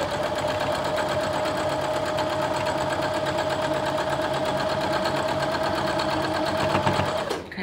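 Domestic sewing machine chain piecing quilt block pieces, a fast steady mechanical whir and needle rhythm running continuously at close range before stopping abruptly at the end.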